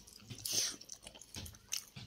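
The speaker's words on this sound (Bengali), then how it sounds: "ডাল দিয়ে একটু খাই" Someone chewing a mouthful of rice with dal, close up, soft wet mastication with a few brief crunchy bites over about two seconds, quiet and without talk.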